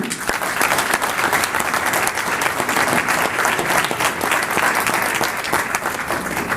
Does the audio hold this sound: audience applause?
yes